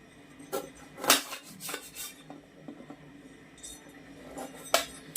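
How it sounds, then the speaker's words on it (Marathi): Knife slicing through dried lemons for a sweet-sour spicy pickle, giving several sharp, close scraping and rasping cuts at irregular intervals, with a small clink between strokes and no talking. "चला आता आपण लिंबू चिरून घेऊया"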